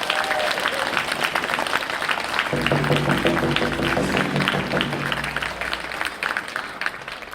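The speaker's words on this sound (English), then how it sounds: "Can we give them a round of applause for being such good sports?" Audience applause breaks out at the Git Hayetsk Coastal Dance Festival, a dense, steady wash of many hands clapping for the full stretch, with a low sustained drone joining partway through.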